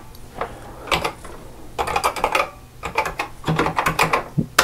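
Fast, clattery typing on the keyboard of a Dragon home computer, loud and close, in several rhythmic bursts of keystrokes separated by brief pauses, with no talking.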